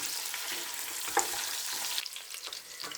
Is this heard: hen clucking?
no